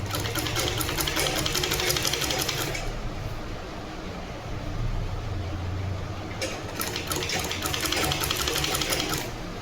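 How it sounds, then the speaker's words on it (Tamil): A sewing machine stitches fabric, whirring steadily. Brighter bursts of fast stitching come at the start and again near the end, close and clear with no talking. "இந்த மாதிரி ஸ்டிச் பண்ணிடலாம்."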